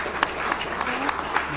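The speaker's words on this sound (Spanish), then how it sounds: "veo a la licenciada Elvira Manuela, también fuertes aplausos para ella" A ceremony audience gives brief applause for an honoured guest at the head table, steady scattered clapping at moderate distance under a speaking voice.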